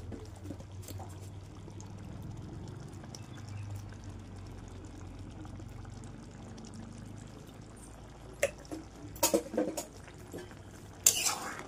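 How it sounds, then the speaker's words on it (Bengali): Raw mustard-style oil is poured lightly over cooked dal, a soft steady trickle under kitchen hum, followed by a few clinks of a spoon against the pot. "এখন এর উপর থেকে হালকা সামান্য কাঁচা তেল দিয়ে দিতে হবে।"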